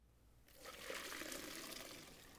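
Cooked elbow macaroni draining as water pours out in a steady, soft splashing rush that begins abruptly and continues quietly, with no voices over it.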